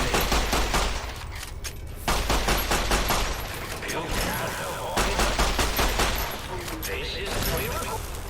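A bottle cap mine explodes in Fallout New Vegas as a loud, dense crackle of rapid blasts that rolls on for several seconds, with a voice talking over it.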